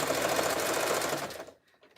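A sewing machine stitches fabric strips of a jelly roll rug in a rapid, steady mechanical chatter close up, then stops and trails into quiet.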